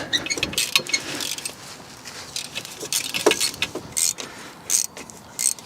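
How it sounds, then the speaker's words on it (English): A ratchet removes T45 bolts on a BMW, giving short bursts of close, fast clicking that start and stop in uneven spurts. "Let's get these 2 T45 bolts removed."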